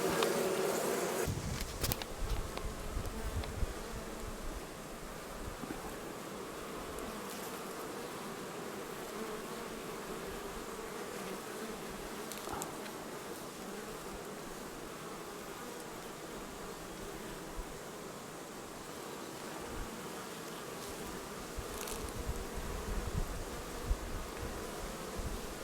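Honeybees at a log hive in the Cévennes in June, fighting off ants, buzz continuously as a soft, dense outdoor drone, quiet and close, with a few faint knocks and rustles and no talk.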